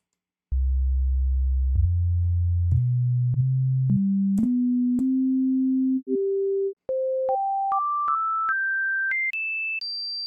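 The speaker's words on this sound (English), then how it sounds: "if we take a listen to this 3X oscillator here, you can feel or hear it going from low to high" A pure electronic tone steps upward in pitch from a deep hum to a high whistle, rising in a series of distinct jumps with brief breaks.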